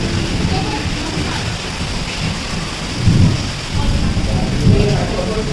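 Heavy rain pours steadily while deep thunder rumbles twice, loud and near, with a voice speaking under the downpour.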